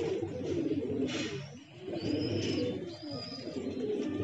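A homing pigeon returned after five days coos close by in low, rolling, repeated throaty phrases, heard alone and fairly loud.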